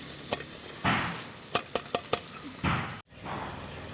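Tomatoes and quince frying in oil in a pan, a steady sizzle broken by a few sharp knocks and stirring scrapes, with brief louder bursts of spitting oil.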